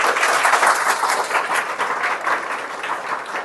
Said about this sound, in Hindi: और बड़ी तालियां